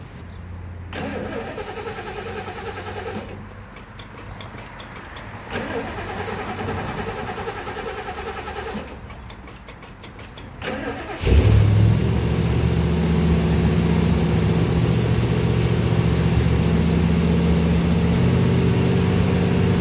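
A Ford 460 cubic-inch V8 that has sat for over a week cranks briefly in bursts, then catches and settles into a loud, steady idle that runs close and continuous to the end.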